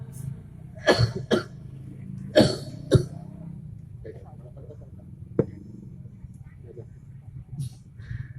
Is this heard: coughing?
yes